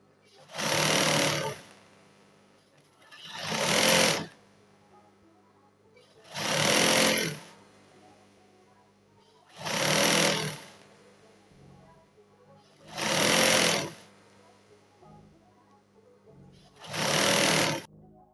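A sewing machine stitches a dress in six even bursts of rapid mechanical chatter, each lasting about a second or two with short pauses between, loud and close with no voices.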